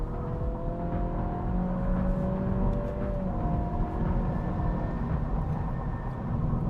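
A 2023 Acura Integra with a CVT accelerates along a paved highway, giving a steady engine drone with a slowly rising whine over constant road and wind rush, with no talk.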